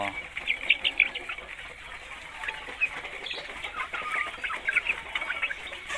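Several chickens, two to three months old, cluck and squawk in short, scattered bursts at feeding time, fairly quiet and close, with a low background hum.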